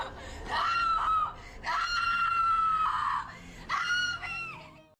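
A woman screams in three long, high-pitched, drawn-out bursts, loud and close, with brief pauses between them.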